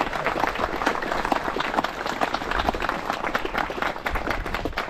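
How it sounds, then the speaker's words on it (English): Applause from an outdoor crowd at a park centenary re-enactment, dense steady clapping held at a fairly even level throughout, with a few voices faintly mixed in. "I think everybody should give them a round of applause."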